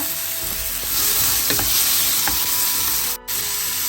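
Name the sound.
tomato, shallots and garlic frying in oil in pan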